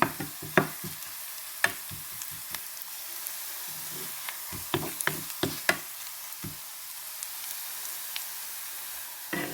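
Ingredients sautéing in a pan for a yellow lentil curry give a steady low sizzle, broken by repeated sharp scraping clicks of stirring, clustered and irregular, close and moderately loud, with no voices.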